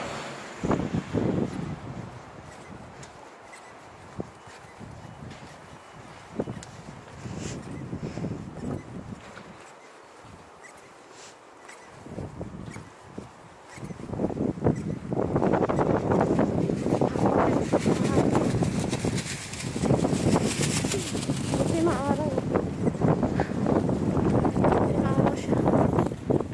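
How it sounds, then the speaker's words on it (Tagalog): Cold wind blowing outdoors during a walk, a rough rushing gust noise that buffets the microphone, fainter at first and then loud and steady, with a person talking under it. "malamig yung hangin."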